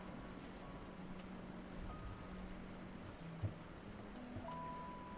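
Steady rain falls throughout, a soft continuous hiss at low level with one brief thump partway through and no voices.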